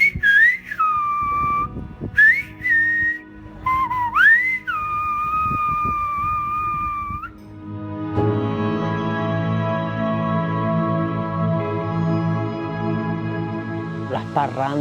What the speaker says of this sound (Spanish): han conseguido pues transmitir a través del silbo cualquier cosa que usted le diga